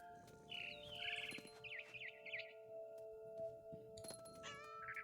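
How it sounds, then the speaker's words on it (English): A barn swallow chirps outside a window in the game What Remains of Edith Finch. Quick, high twittering bursts come early and again at the end over a quiet, humming ambience, faint and fairly close. "Then I heard chirping outside my window. It was a barn swallow going back to her nest."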